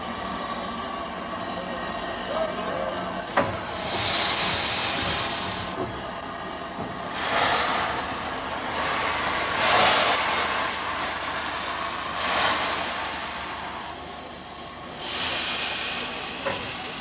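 A steam locomotive shunts back and forth at the Woking 150 railway event, giving off repeated loud bursts of hissing steam between quieter rumbling stretches, with narration over it.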